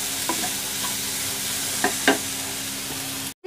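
Onions frying over a medium flame in a pan for Rajasthani pyaz kachori, a steady close sizzle broken by a few scraping stir strokes and clinks before a brief cut to silence.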